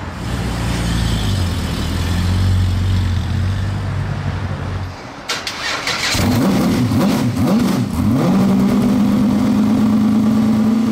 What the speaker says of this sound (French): Il y a une Ferrari 275 Daytona qui se profile là dans tout ce remue-ménage